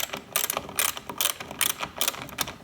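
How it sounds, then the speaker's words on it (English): A socket wrench ratchets in quick clicking bursts close by while taillight fasteners come out on an 08-14 Subaru WRX/STI, with short pauses between runs of clicks. "come around in the back of the taillights with a socket wrench or a Phillips head screwdriver, and you want to remove the taillights"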